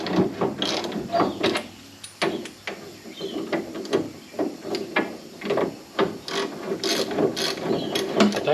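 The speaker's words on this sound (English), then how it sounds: "I'm just going to pull these guys down gently with a ratchet rather than the rattle gun." A hand ratchet clicks in quick repeated bursts while compressing a coil spring on an ex-police Falcon panel van, close and steady with brief pauses between runs.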